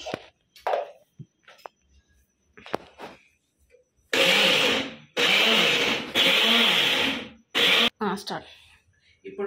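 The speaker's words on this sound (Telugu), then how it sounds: "మిక్సీలో వేసుకొని రుబ్బేద్దాం." A kitchen mixer grinder whirs in several loud bursts of a few seconds each, pulsing as it grinds tomato chutney, with a voice talking in the quieter gaps between runs.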